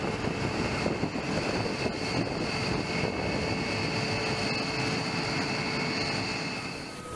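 A B-1B Lancer bomber aircraft gives a steady, loud, broadband engine roar with a constant high whine, sustained without a break.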